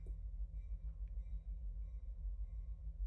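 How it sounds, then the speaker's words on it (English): A train passes at a distance with a steady low rumble throughout, faint and continuous, with no talking. "Oh, and here comes a train"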